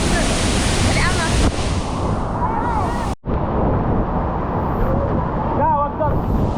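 Strong rushing water at Pangsanjan Falls, a loud, continuous roar of churning whitewater close by, cut by one brief dropout, with voices calling over it.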